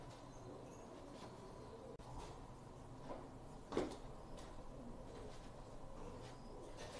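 Pigeons coo softly in a quiet room during pigeon pox season, with low, faint cooing calls and a brief rustle or flutter partway through.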